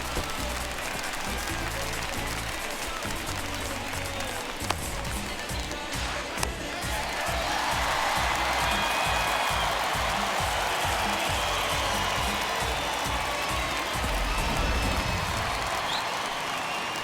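A home crowd in the MLB The Show 21 baseball video game applauds after a leadoff triple, a continuous roar of clapping and cheering that swells midway and holds steady to the end, with no talk.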